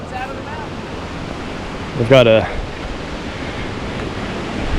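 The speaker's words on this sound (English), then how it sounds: "that's the falls right there" Virgin Falls, a waterfall in Tennessee, gives a steady rushing roar of falling water heard from along a hiking trail, with a brief burst of nearby speech partway through.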